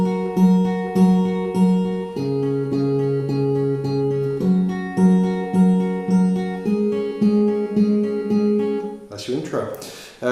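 Fingerpicked acoustic guitar playing the full intro of a song, a steady rolling pattern of plucked notes through several chord changes, close and clear, ending with a short burst of handling noise.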